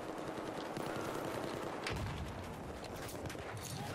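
Distant gunfire in Battlefield 4, a rapid scattered crackle of shots with a heavier burst near the middle, sitting faint and far off over a constant low background with no talking.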